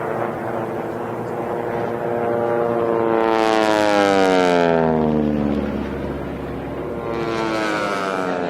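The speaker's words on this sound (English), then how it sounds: "I love the sound of those propellers going." Racing propeller aircraft at the STIHL National Championship Air Races at Reno sweep past with a loud, rising then falling engine drone and propeller buzz, a second plane following a few seconds later.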